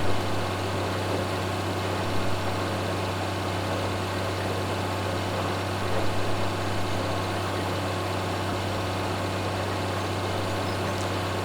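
Case tractor engine in Farming Simulator 2013, running steadily while cruising at about 16 mph: a continuous, even mechanical drone with a low hum, holding constant throughout with no voices.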